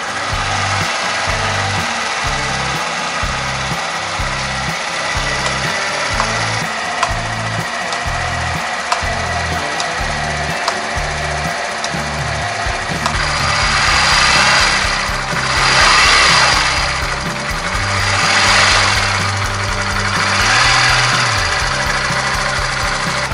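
A flood-damaged Honda Grom motorcycle with its stock muffler idles steadily nearby, its low, rhythmic thumping pulses carrying on, then giving way to a few broader swelling surges later on.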